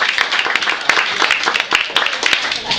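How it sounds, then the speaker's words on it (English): Audience applause for students at a halftime show in Long Beach, a dense wash of many clapping hands at steady loudness for a few seconds, with some voices mixed in. "Let's give these guys a round of applause."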